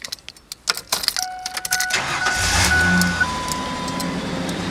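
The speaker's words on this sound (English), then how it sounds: "They did actually give me the key fob and the keys for this thing, go figure, and it starts right up." A 2000 Ford Ranger pickup truck is started with its key: keys jangle and click, the starter cranks, and the engine catches into a loud, close, steady running roar.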